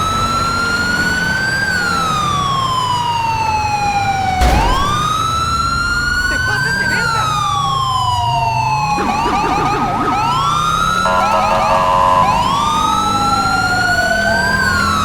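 Police car and ambulance sirens wail together in the GTA 5 LSPDFR game during a code 3 escort, with an Illinois State Police Chevy Caprice leading. Loud, overlapping rising and falling tones shift pattern several times over a low engine rumble.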